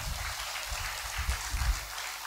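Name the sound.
audience clapping at a church sermon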